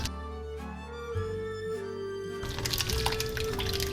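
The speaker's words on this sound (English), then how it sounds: "I'm just gonna slowly pour this in the pan" Hot milk for goat cheese pours slowly into a pan, a soft wash of splashing that swells partway through, with faint tonal music underneath.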